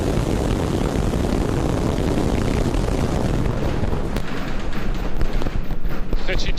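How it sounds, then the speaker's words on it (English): A SpaceX Starship V3 rocket lifts off with a dense, roaring, crackling rumble that fills the sound and grows rougher and more uneven as it goes on. A voice talks over the roar. "We have liftoff."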